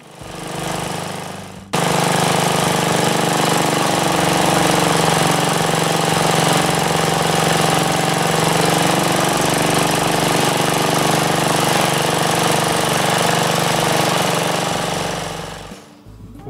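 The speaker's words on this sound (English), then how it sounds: "the winch just tows itself at a slow speed to" Cable winch towing itself at slow speed while pulling pipe through a gravel trench, a steady loud motor drone starting abruptly and running continuously before winding down.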